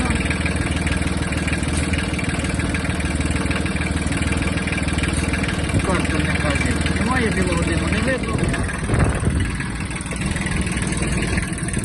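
A small Kubota XB-1 mini tractor diesel engine idles steadily nearby with a continuous chugging rumble.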